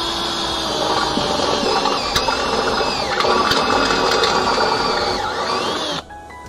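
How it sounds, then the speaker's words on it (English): A step drill bores through the metal post of an X2 Viper latch bracket, giving a steady, loud grinding whine with ratcheting mechanical texture for about six seconds before it stops abruptly. "And drill that out just like that."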